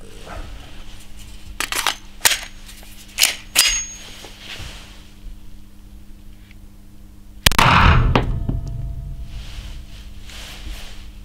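Glock 17 pistol firing 9mm PAK blank rounds outdoors: several sharp, separate shots with gaps between them, then a louder close blast that rings out and decays.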